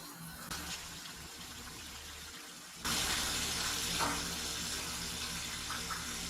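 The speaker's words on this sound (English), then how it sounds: "now that I'm going to plug in the pump, it's going to fill my table up through this hose" Sump pump pushing water through a hose to fill a plasma cutting table, quiet at first, then a sudden steady gushing flow of water that continues alone.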